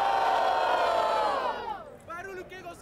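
Crowd at a rap battle, a loud sustained collective cheer and roar that swells and then drops away, giving way to scattered voices.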